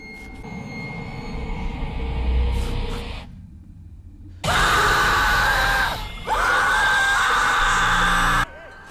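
A child in a thriller film wakes from a night terror with loud, high screams in two long bursts, following a quieter stretch of background sound and a brief silence.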